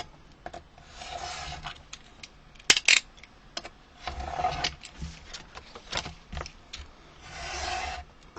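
Scissors cutting all the way around a paper piece for a sketch album, a series of soft rasping snips and rustles with a few sharper paper clicks, close and fairly quiet, no voices.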